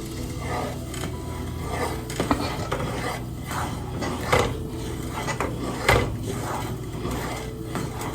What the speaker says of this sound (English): So we stir for it to get thick.